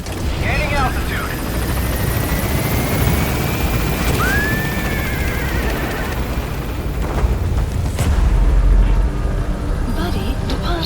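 Helicopter lifting off from a landing zone in Metal Gear Solid V: The Phantom Pain, a loud, continuous rotor and engine roar with a rising whine, under radio-style voices.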